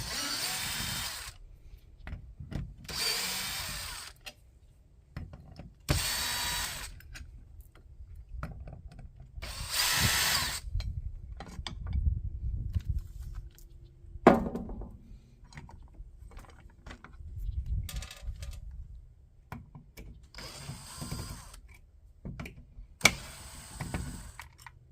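Cordless power tool backing bolts out of a plate on a 2024 Forest River Surveyor RV, in repeated loud bursts of whirring, each a second or two long, separated by quieter handling clatter and clicks.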